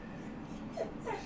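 A dog whimpers softly, giving two faint, brief high whines close together over a quiet room background.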